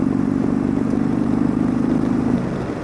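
Indian Chieftain Limited motorcycle with a 116 cubic inch engine on the road, giving a loud, steady low rumble that holds for a couple of seconds and then eases slightly near the end.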